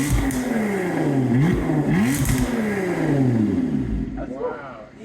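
Lotus Emira with third catalytic converter deleted and valve controller, revving in track mode: loud rising and falling exhaust sweeps with repeated blips, ending in a fading crackle, under a speaking voice.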